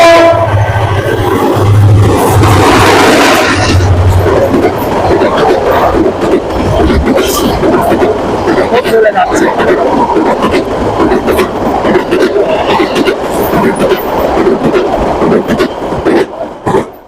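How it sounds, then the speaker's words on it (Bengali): A direct train from Lalmonirhat roars past at speed through Shokan Pukur railway station in Gabtali, Bogura, a loud continuous rumble and rattle with a horn blast near the start, filling the whole stretch. "আমরা আরেকটি ট্রেন দেখতে পাবো, এটা ডাইরেক্ট ট্রেন লালমনিরহাট থেকে আসছে"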